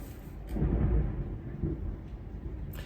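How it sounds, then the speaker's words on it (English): Low rumbling thunder from a thunderstorm rolls through, swelling to a deep peak and easing off into a steady dull roar, with no voices. "Storm is not gonna stop me."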